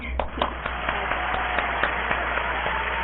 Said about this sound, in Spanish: le voy a dar un fuerte aplauso